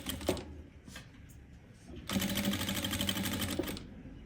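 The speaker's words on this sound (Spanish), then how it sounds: "vamos a ir cosiendo en todo este perímetro" A sewing machine stitching teddy bear fabric pieces along a pattern edge, a brief run and short bursts early, then a long steady rapid-stitching run, close and clear.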